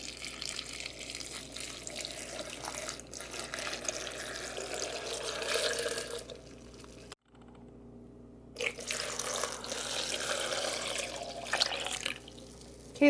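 Apple juice pouring steadily from a container into a blender jar holding cucumber and spirulina, a continuous liquid splash with a brief break midway before the stream resumes.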